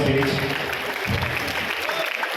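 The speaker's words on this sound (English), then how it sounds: "a big round of applause to all the dignitaries who are there on the stage" Crowd applause for dignitaries seated on a stage, a steady wash of clapping that holds for a couple of seconds.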